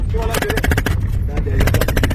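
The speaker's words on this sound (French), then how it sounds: "Vous avez entendu les coups de feu." Rapid gunshots ring out near a village, a dense run of sharp cracks and bursts repeating steadily throughout with no gaps.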